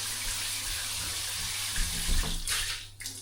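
A tap on the cold water side runs at full force after power tanks were fitted, a loud, steady gush that swells briefly and then cuts off.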